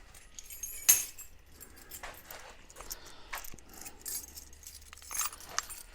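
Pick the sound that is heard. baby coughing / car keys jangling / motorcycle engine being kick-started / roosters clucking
car keys jangling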